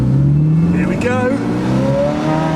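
A Ferrari accelerates hard from inside the cabin, its engine rising and then dropping as gears are shifted early, with a loud, steady drone under occupants' talk.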